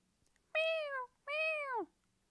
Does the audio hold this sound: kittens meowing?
yes